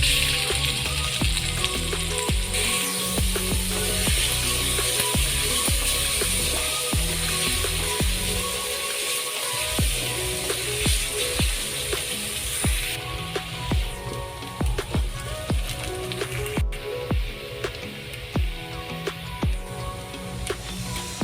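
Chopped onion frying in hot oil with asafoetida for vangi fry masala, a steady loud sizzle and crackle with scattered pops and utensil clinks, close up and without talk.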